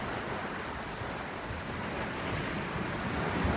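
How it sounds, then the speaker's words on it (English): Active ocean surf churns on a bright, super windy day, a steady broad roar of waves mixed with wind buffeting the microphone, swelling slightly toward the end. "Super active ocean."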